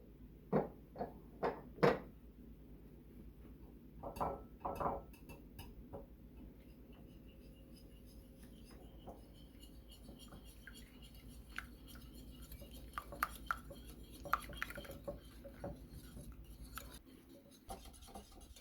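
Cake batter is mixed in a bowl with vanilla added, giving faint scraping and rubbing strokes with a few sharp taps early on, then quieter intermittent clinks and scrapes.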